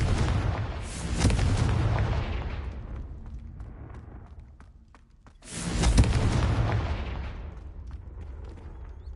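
Two heavy Confringo blasting-curse explosions go off in the Hogwarts Legacy video game, each a loud booming burst followed by a long rumbling decay, the second arriving several seconds after the first fades.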